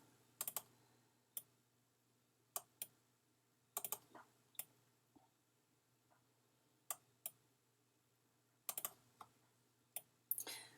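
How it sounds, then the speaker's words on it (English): Computer mouse and keyboard clicks come from editing in Photoshop, sparse sharp close taps arriving singly and in small quick bursts over a quiet room background, with no talking. "I know it's a lot of clicking."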